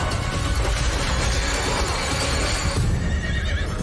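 A horse in the Diablo 4 video game neighs loudly amid a dense, noisy game soundscape, the whinny filling most of the moment before the sound eases off.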